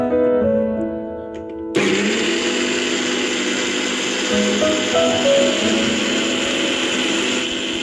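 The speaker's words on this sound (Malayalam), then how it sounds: "ആ ഉഴുന്ന് നമ്മൾ പാകത്തിനുള്ള വെള്ളവും ചേർത്ത് മിക്സിയിൽ അടിക്കാൻ പോവുകയാണ്" A mixer grinder whirs loudly as it grinds soaked urad dal with water into batter, its motor starting abruptly after a brief stretch of other sound and then running steadily and close.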